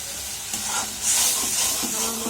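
Spices fry in a pan for a tangra fish and potato curry, a steady close sizzle with intermittent scraping and stirring.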